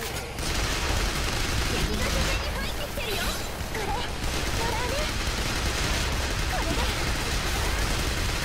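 Rapid gunfire rattles almost continuously through a zombie-shooting video game, dense bursts blending into a loud, busy mix with no clear pauses.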